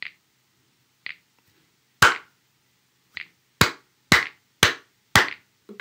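Single hand claps tapping out a short rhythm back, eight sharp separate claps, close and fairly loud with small pauses between them, in a children's classroom activity about conductive clappers, with no talking.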